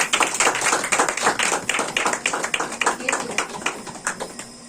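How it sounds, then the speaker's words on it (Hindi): A congregation claps along at a Christian church service, a dense run of quick, fairly loud hand claps that stays steady and then eases slightly toward the end. "ताली बजाओ।"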